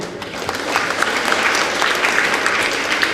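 Audience applause at a school prize ceremony for World Arabic Language Day, a continuous moderate clatter of many hands clapping.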